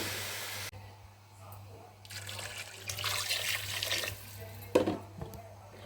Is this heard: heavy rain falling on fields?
no